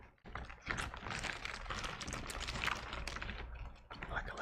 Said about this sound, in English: Like a little silicone keyboard protector.